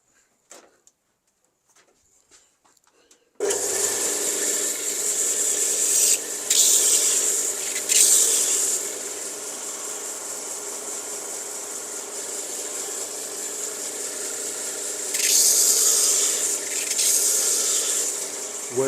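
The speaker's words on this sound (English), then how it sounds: "I'm just going to fix that up a little bit on the sander." A sander grinds a knife tip back into shape, starting after a few seconds of near silence as a steady, fairly loud abrasive rasp that holds for the rest of the time, swelling slightly in places.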